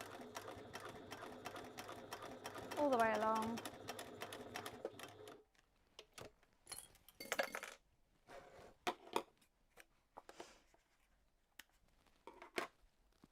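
Domestic sewing machine stitching a lined zipper pouch seam at a 3 stitch length, running steadily and fairly loud for about five seconds, then falling silent into fabric handling clicks and rustles while someone talks briefly.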